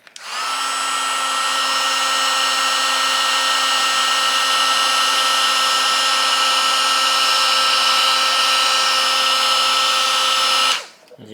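A hot-wired heat gun whines at a steady, loud, unchanging pitch for about ten seconds with a constant fan hum, starting abruptly and cutting off cleanly near the end, with no talking.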